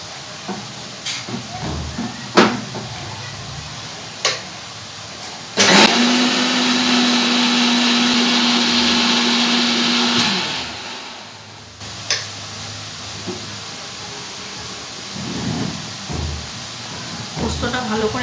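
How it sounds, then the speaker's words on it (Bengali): A kitchen mixer grinder grinds poppy seeds into a paste, a loud steady motor whine that starts abruptly and runs for about five seconds before cutting off, set between clicks, clatter and speech. "এখানে রান্না করছি, ওইখানে গিয়ে আমাকে মিক্সি চালাতে হচ্ছে।"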